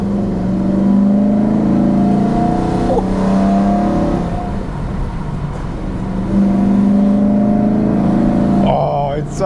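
Newly built engine in a BMW E92 M3 revs on an icy winter road, a steady sustained drone that swells and eases, heard from inside the car with occasional voice under it.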